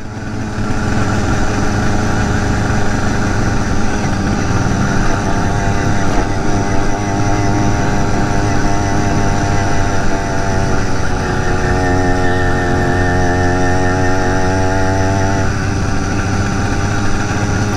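A BT 100 motorized bike engine runs steadily on back roads, a loud continuous buzzing drone throughout, with a wavering rise in pitch partway through as the throttle changes.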